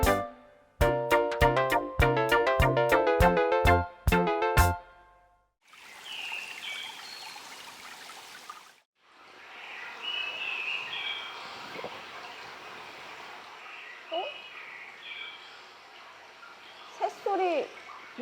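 From an audio speaker, a short chiming melody gives way to steady flowing, trickling water with occasional bird chirps and faint voices.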